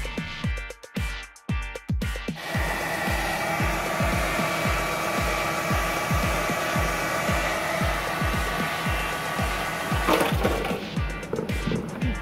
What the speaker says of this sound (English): I had the idea to soften the glue with a hairdryer or heat gun, and hope that the hot air would not hurt the cactus